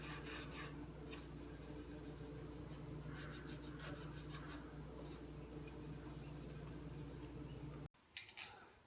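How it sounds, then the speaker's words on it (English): A rag rubs boiled linseed oil into cedar wood on a bird feeder, making repeated close scrubbing strokes in a steady back-and-forth rhythm that stop abruptly near the end. "I'm going to go ahead and rub it out with this rag to thin it out and rub it into the wood"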